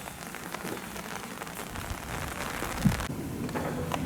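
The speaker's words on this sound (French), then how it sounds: "Et la pluie augmente, la pluie redouble." Heavy rain pours steadily on surfaces at the entrance of a village in Castelnau-de-Montmirail, a dense, continuous hiss that swells slightly louder, with no voices.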